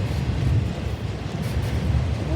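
A long freight train loaded with tractors rolls steadily past, a continuous low rumble of rail wagons close by at even loudness, with no talk.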